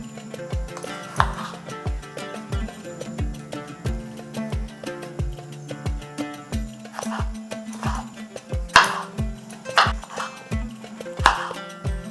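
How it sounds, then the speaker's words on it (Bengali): A knife chops tomato and onion on a cutting board: a steady run of crisp, evenly spaced knocks, close and fairly loud, with a few heavier strikes, continuing without pause and with no talking. "এর সাথে একটা টমেটো আর একটা পেঁয়াজকেও কুচি করে নেবো"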